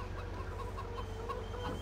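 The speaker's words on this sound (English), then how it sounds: "Suicidal chickens." Chickens cluck softly on a farm in the Farming Simulator 2017 video game, faint calls over a low, steady engine-like hum with no talking.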